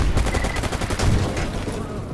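A grenade blast in the game STALKER Anomaly, heard as a loud, dense burst of booming crackle and rapid gunfire-like reports that stays close and continuous throughout, with no talking.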